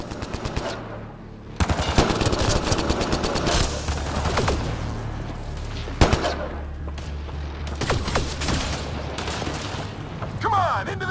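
Bursts of rapid machine-gun fire and scattered single gunshots in a Mass Effect: Andromeda firefight, loud and close, with sharp impacts and pauses between volleys over continuous battle noise.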